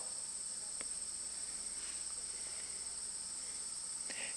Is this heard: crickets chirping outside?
yes